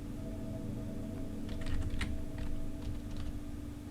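Keys clack on a computer keyboard in a short run of typing, a quick irregular patter of soft taps over a steady electronic hum, with no talk.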